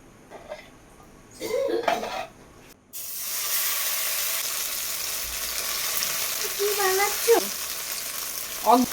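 White oil heating in a kadai on the stove, a steady close sizzle of frying that sets in abruptly and runs continuously, with a few clinks of utensils and brief kitchen sounds before it starts.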